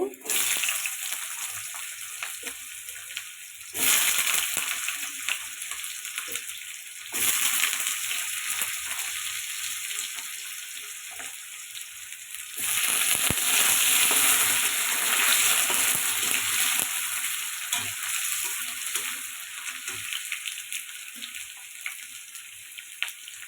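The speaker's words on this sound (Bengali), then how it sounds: "আমি দিয়ে দিব ছোটো ছোটো আলু কেটে রেখেছি সেটা দিয়ে দিব আগে সব এগুলো ভেজে নিব" Small cut potato pieces fry in a pan with a loud, close hiss that swells in several bursts, likely as they are stirred, and a soft voice talks now and then underneath.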